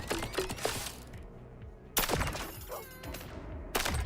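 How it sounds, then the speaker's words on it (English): Repeated grenade launcher shots in the video game Oddcore: three sharp, loud bursts spaced about two seconds apart, each followed by a brief rumbling decay, with quieter clatter in between and no talking. "Yeah, this is a grenade launcher."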